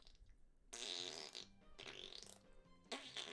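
Fart sound effects played back on a Twitch stream, a few loud, buzzy blasts in quick succession with short gaps between them, no talking over them.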